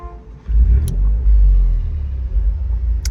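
A 2025 Maserati GranCabrio Trofeo engine starts up close by: a brief crank, then a loud deep rumble that settles into a steady idle with slight fluctuations, no talking.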